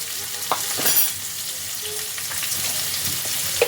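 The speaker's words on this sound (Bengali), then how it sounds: "এবার আমি এর মধ্যে দিয়ে দিচ্ছি পেঁয়াজ কুচি" Two medium chopped onions frying in hot oil in a pan, giving a steady, close sizzle with a few sharper crackles and stirring scrapes near the start and end, and no talk over it.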